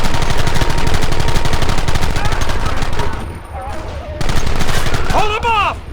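Dense gunfire from Red Dead Redemption, with rapid volleys of rifle and machine-gun shots rattling continuously, loud and close, thinning briefly before another burst.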